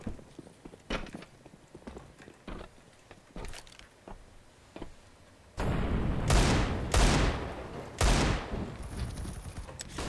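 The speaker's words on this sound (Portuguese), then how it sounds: "o cara tomou lá tiro de Digo" Gunfire in a multiplayer shooter game, first scattered sharp single shots, then heavy loud bursts of rapid fire crowding together near the end, with no speech.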